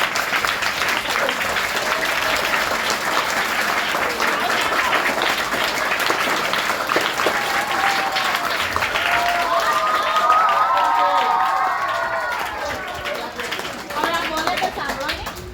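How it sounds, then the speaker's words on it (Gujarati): Loud, sustained applause from a crowd at a school costume event, dense clapping throughout with some cheering and chatter mixed in. "જોરદાર તાળીઓ થઈ જાય"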